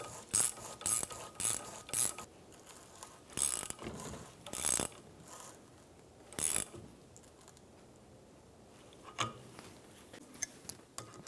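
A ratchet tightens the rear shock mount nut on a 2003-2007 Infiniti G35, heard as several loud, close bursts of rapid clicking with pauses between, the strokes thinning out toward the end.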